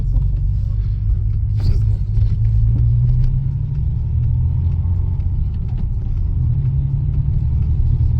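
A car driving steadily with a loud, constant low rumble from the engine and road, interior perspective, with faint brief sounds over the top and no clear speech.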